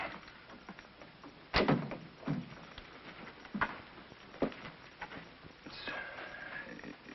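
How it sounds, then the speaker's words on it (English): A door is shut in a scene from a 1951 jungle film, one sharp thud followed by a few softer knocks and shuffles, heard through thin, narrow-band old soundtrack audio. "Close the door."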